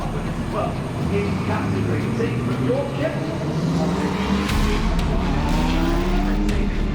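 IMSA race cars, including a Lamborghini, a Corvette and a big Porsche, roar past one after another at the Brickyard, loud engine notes rising and falling with a constant crowd-and-track wash.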